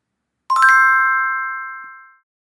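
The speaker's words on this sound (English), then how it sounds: "And this is the bell sound." A bell chime made as a sound effect for the Focus Buddy app rings out once with a bright struck onset, then a clear, sustained tone that slowly decays over about two seconds and stands alone.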